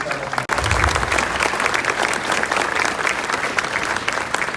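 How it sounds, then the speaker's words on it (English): Audience applause at a high school graduation ceremony, a dense sustained clapping from a large crowd that starts abruptly after a brief pause and continues steadily at full volume. "Let's take a big round of applause for all of the Sam Rayburn Shining Stars."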